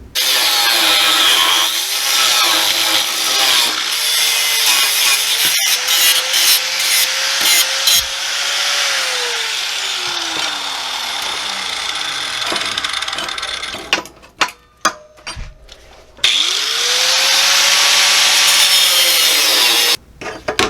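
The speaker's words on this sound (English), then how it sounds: "that grinder with the wafer wheel really makes quick work of this" An angle grinder with a thin wafer cutting wheel slices through metal for homemade downrigger weights, a loud sustained whining grind with pitch shifts as the cut loads, a short break of scattered clatter, then cutting resumes.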